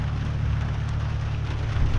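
Rain beginning to fall outdoors makes a dense, steady hiss of drops on surfaces, with a low rumbling undertone throughout and no voices.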